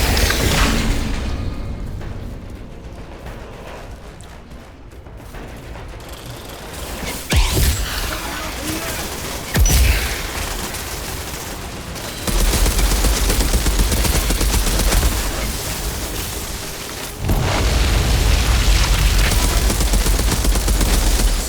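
Sustained gunfire in the shooter game Outriders, dense fusillades and mechanical weapon bursts with occasional booms, loud and continuous with surges in intensity throughout.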